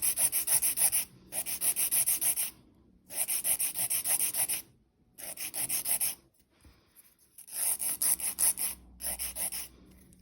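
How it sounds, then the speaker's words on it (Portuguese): A manual nail file rasps back and forth across a fingernail tip in five close, steady bursts of rapid rubbing strokes separated by brief pauses. "primeiro nós vamos começar com a lixa manual"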